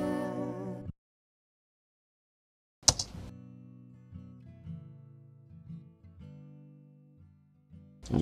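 Acoustic guitar recorded in Logic Pro X, heard as a short strummed chord that cuts off, a second of silence, then a fresh strike ringing into sustained low notes and a final sharp strum.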